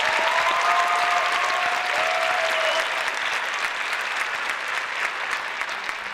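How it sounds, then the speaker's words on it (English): An audience applauding dancers at a live dance performance: loud, dense clapping from a large crowd that holds steady and tapers slightly toward the end, with a faint tone briefly audible beneath it. "I think deserves an incredible round of applause"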